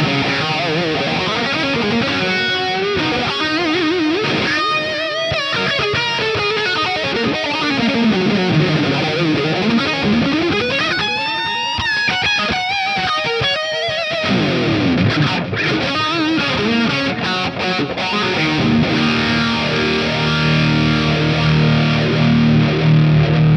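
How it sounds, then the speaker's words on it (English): Electric guitar run through a phaser placed before the amp in JamUp Pro XT, slowed sweep, a continuous loud stream of sustained notes and bends with a swirling, shifting tone. "I got a phaser. I'm going to move that before the amp. Bring the speed down."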